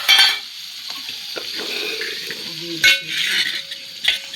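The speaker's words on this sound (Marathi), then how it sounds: "टाकला कांदा फ्राय करायला, मस्त कांदा फ्राय झाला, गरम गरम तेल झालं" Chopped onion frying in hot oil in a farmhouse kitchen, a close sizzle with sharp stirring clicks and scrapes of a utensil against the pan, alone without talk.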